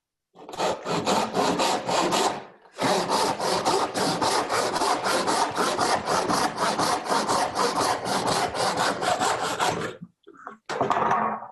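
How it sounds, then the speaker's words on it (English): Hand saw cutting through a wooden spoon blank being prepared for steam bending, with steady rapid back-and-forth strokes that run for several seconds, pause briefly, then resume close and loud with no talk. "I'll let Elia saw this"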